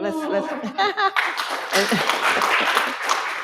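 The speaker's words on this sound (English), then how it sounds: "audience, I know that we can give her an intermediary applause a little greater than that." An audience claps for a speaker at a panel on philanthropic redlining, with talk and a chuckle at the start before a moderately loud burst of mixed clapping and some laughter takes over.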